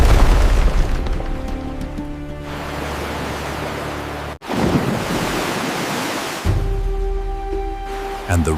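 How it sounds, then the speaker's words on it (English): A river of water rushes back through an ancient Egyptian desert kingdom in a deep, roaring surge of broadband noise with a heavy low rumble, briefly cutting out and then swelling again, loud and continuous. "And the river came rushing back"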